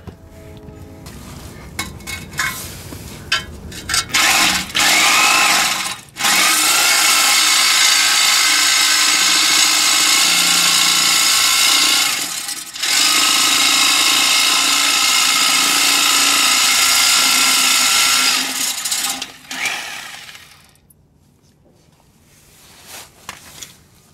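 Power saw cutting through the exhaust resonator on a 1990 Chrysler Imperial, a loud sustained metallic grind with a few short starts and stops before a long steady cut that winds down near the end.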